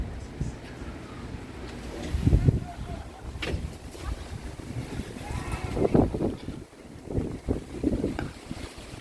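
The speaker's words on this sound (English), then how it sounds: "show you how windy it is out there" Strong wind blows across a lanai by the ocean in Kihei, Maui, gusting and buffeting the microphone in uneven surges amid a rushing background.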